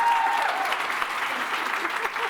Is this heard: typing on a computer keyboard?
no